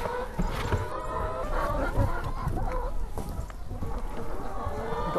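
Farm hens cluck and chatter near feed hoppers on a winter morning, a steady flock murmur with some wild birdsong mixed in.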